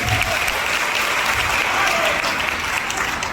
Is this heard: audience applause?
yes